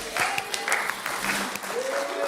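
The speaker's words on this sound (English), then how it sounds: "I didn't even have to put the applause button on." Audience applause at an online community gathering, a steady patter of many hands that fills the whole clip at moderate level, with a voice speaking briefly over it.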